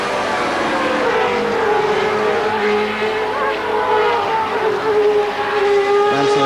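A 1990 Formula 1 car at the Hungarian Grand Prix in Budapest, heard from onboard during Nigel Mansell's qualifying lap: a loud, continuous high-revving engine wail that rises and falls through gear changes, with no pauses.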